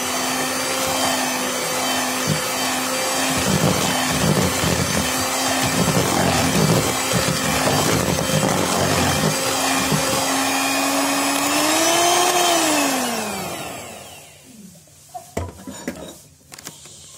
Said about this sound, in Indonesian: Kita aduk pakai mix yang kecil aja.